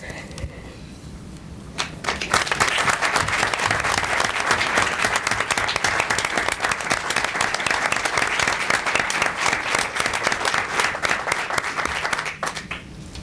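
A crowd claps loudly and continuously for a new mayor at a 1991 swearing-in ceremony, the applause rising sharply after a quiet moment, holding steady for about ten seconds, then tapering off.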